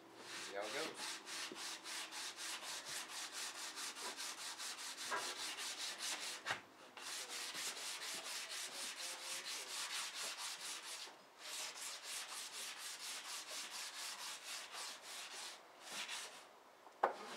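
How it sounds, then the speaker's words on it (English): Hand sanding strips lacquer from hickory tool handles: a steady, close scratching rasp of rapid back-and-forth strokes that runs almost continuously, broken by a few brief pauses, with no talking. "I'll do a little bit of sanding"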